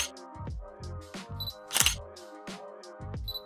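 Shutter bursts from a DSLR fitted with an 18-55mm kit lens: several sharp mechanical clicks, each a quick two-part snap of mirror and curtain, fired close and loud in an uneven series with quiet gaps between.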